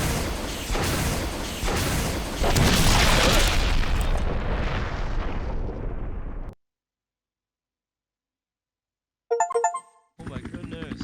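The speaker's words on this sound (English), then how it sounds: "the Tyrant and the mansion are blown to bits" A mansion explodes in the Resident Evil Remake video game, a loud sustained rumbling blast with repeated booms that roars for about six seconds, cuts to silence, then gives way to brief chiming game tones.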